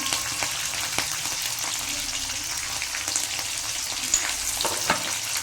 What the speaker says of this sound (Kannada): ಈಗ ಸ್ವಲ್ಪ ಕರಿಬೇವು. ನಾನೊಂದು 2-3 ಮೆಣಸಿನ್ಕಾಯಿ ಹಾಕ್ತೀನಿ.